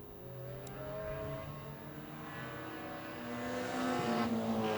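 Race cars in a youth race at Greenstone Park Speedway rev and pass, their engine tones rising and shifting in pitch and growing louder toward the end as they approach.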